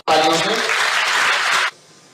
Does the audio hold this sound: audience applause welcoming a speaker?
yes